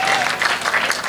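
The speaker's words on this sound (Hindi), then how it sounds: "बजाओ ताली जरा जोरदार" A short burst of crowd applause at a Hindi comic poetry gathering, loud and close, with some hands clapping in a loose rhythm.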